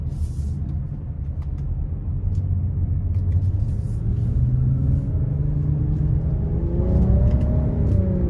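Inside a 2023 Nissan Rogue SL, its 1.5-litre turbo three-cylinder engine pulls in sport mode, a steady low cabin rumble with the engine note rising as it accelerates toward the end.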